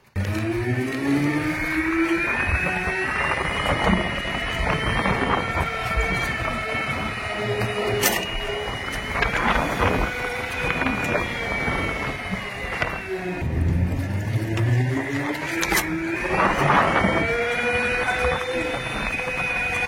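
Vida VX2 Plus electric scooter riding along, its motor giving a thin whine that rises and falls with speed over steady road and wind rush.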